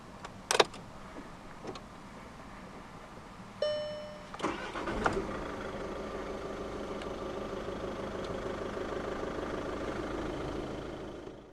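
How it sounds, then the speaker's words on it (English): A 2014 Audi A1 Sportback 1.6 TDI diesel engine cranks over after a couple of clicks, catches with a burst, then settles into a steady, close idle. "put your foot on the clutch, insert the key into the slot right here, and twist it"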